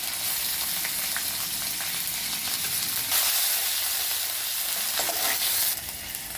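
Green chilli and ginger sauté in an oiled pan with a steady, close frying hiss and soft stirring scrapes that swell briefly midway.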